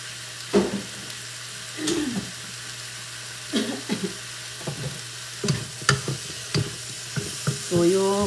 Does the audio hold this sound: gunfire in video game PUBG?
no